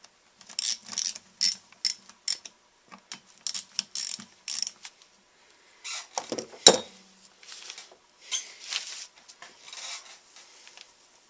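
Torque wrench tightening bolts on an antique Frontier chainsaw, a series of short ratcheting clicks and mechanical rasps in uneven bursts, with a sharper metallic clack near the middle, close and fairly quiet with no talking.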